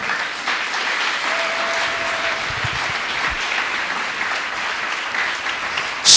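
A church congregation applauds to acclaim the Lord, a sustained roomful of clapping that holds steady throughout before swelling louder at the very end.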